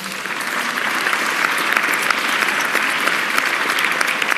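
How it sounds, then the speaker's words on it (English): Audience members clap steadily at a mayoral press conference, a dense, loud and sustained round of applause from a crowd in a room, with no voices standing out. "Let's thank our Commissioner of Immigrant Affairs, Nisha Agarwal,"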